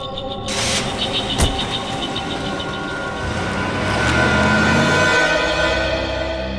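A car starts up, a door thuds shut, and the engine swells louder as it pulls away, surrounded by a broad street-level hum.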